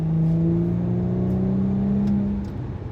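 Hard acceleration in a car with rising engine harmonics, loud and close from inside the cabin, holding steady before easing off near the end; no talking.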